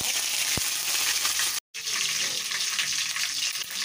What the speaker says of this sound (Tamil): இந்த எண்ணெயில் கொஞ்சோண்டு சோம்பு போட்டுக்கிறேன் தாளிக்க